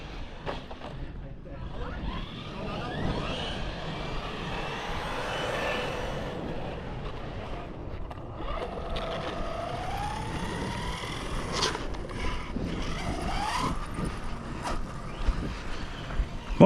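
Quick Run G2 radio-controlled car fitted with a sled engine, a whining motor that rises and falls in pitch as it accelerates, heard alongside outdoor background noise and people talking.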